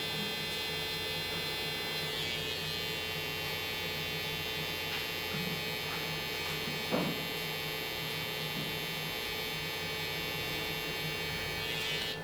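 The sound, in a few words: electric hair clipper trimming a taper haircut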